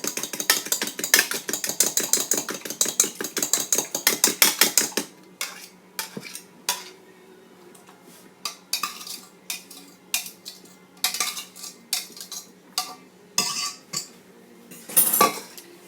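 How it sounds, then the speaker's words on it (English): A fork rattles rapidly against a bowl while beating eggs, a fast close clatter for several seconds, then slower scattered clinks and scrapes as the mixing continues. "I'm going to use a fork and I'm just going to mix my eggs up here."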